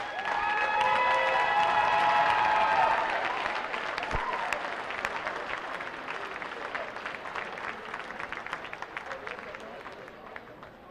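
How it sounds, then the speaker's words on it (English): Crowd applause at a girls basketball championship awards ceremony for the Zion Belleville team, starting under a voice over the loudspeaker, then continuing as a thinning field of individual claps. "A big round of applause for the Zion Belleville."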